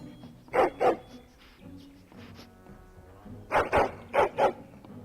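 A large dog in the game Dragon Age: Origins gives two paired bursts of barking, a quiet whimpering stretch between them, then two more double barks, close and loud.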